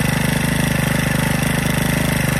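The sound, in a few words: tilling machine engine running and warming up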